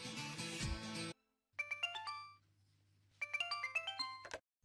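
A phone rings for a call-in to a radio request programme, playing a melodic ringtone in two bursts of rising electronic notes after a short musical sting, with a low hum underneath and no talking.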